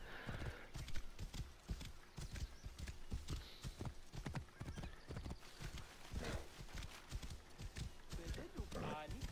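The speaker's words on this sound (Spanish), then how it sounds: "Poder entrar con el caballo dentro del pueblo," Horse hooves clip-clopping at a steady walking rhythm through a town in Assassin's Creed Origins, a continuous run of distinct hoof beats heard close, with a whinny near the end and talk over it.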